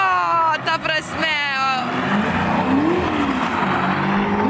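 A drift car from the Side To Side Drift Team revs with rising engine harmonics, then its tires squeal in a long, loud skid, with voices talking over the start.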